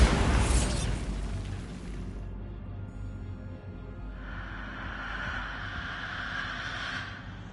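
Bombarda spell blast in the Hogwarts Legacy video game, one loud burst at the very start that decays into a low rumbling tail, followed by a quieter hissing shimmer, no talking.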